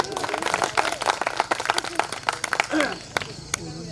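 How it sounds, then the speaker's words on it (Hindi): Audience applause at a Hindi poetry gathering (kavi sammelan) in Puranpur, a lively crowd clapping in quick, uneven bursts mixed with voices and cheers talking over it. "एक बार तालियां बजा दे"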